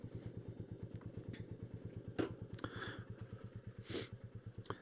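A Royal Enfield Meteor 350 motorcycle engine idles with a steady, even thump-thump beat, faint and somewhat distant, with a couple of brief clanks over it.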